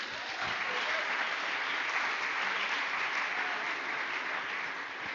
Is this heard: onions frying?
no